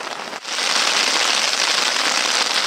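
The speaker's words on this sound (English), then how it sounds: "Summer of hail continues." Hail and rain pelt down steadily during a mountain storm on a backpacking trip at Mount Robson's Berg Lake, a loud, dense hiss of drops that starts abruptly and continues without a break.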